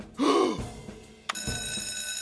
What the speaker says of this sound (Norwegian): Jeg drar og ringer brannmann Sam